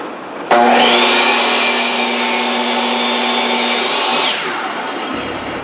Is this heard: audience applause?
no